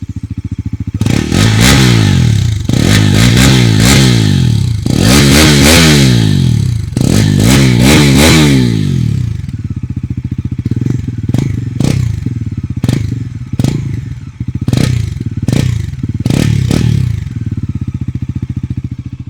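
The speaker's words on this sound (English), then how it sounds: "let's fire this baby up and see how this sounds like" A Bajaj Pulsar NS400Z motorcycle engine starts and is revved in three long, loud, close bursts that rise and fall. Shorter sharp blips follow over a steady idle.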